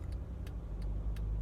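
Car creeping out of a car park at about 10 mph in second gear, a steady low engine rumble close by with a few faint higher ticks over it, no talking.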